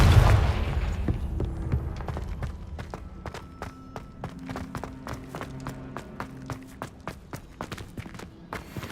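A Confringo blasting spell in Hogwarts Legacy sets off a boom at the start that fades into a steady run of rhythmic thuds and clicks, like footsteps, with no talk.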